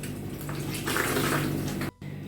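A wet towel soaked in warm water is wrung out by hand, releasing a close, continuous stream of water splashing down that swells slightly and then stops sharply, followed by a softer trickle.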